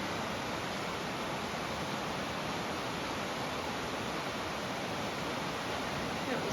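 A dense, even rush of the flowing Cumberland River fills the scene, steady and unbroken without voices or other sounds.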